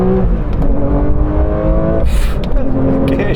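A Porsche 911 S/T engine on a country road shifts gear, its loud steady drone dipping briefly and then climbing again in pitch, with a voice talking over it the whole time.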